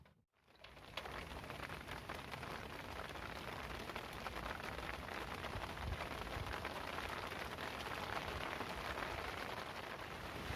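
Heavy rain with wind at Jatiluhur reservoir during a fishing trip, a loud, steady wash of raindrops close by that keeps going with no voices over it.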